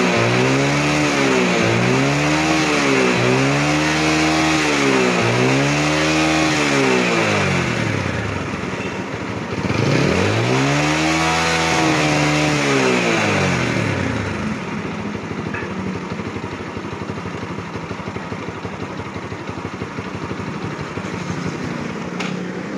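Yamaha Jupiter Z motorcycle engine revving up and down several times in quick rhythmic bursts, then one longer climb before settling back to idle, loud and close with no talk.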